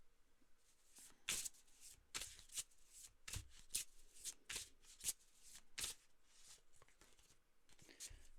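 Tarot cards are shuffled and drawn, giving a string of quiet, close riffling and flicking bursts of varying length, with soft card slaps and brushing between them.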